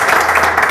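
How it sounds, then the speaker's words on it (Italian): Studio audience applause on a cooking competition show, a brief burst of loud, dense clapping that carries evenly throughout with no talking on top. "scatta l'applauso"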